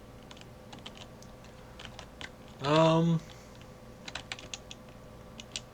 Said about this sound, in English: I am just clicking all over the place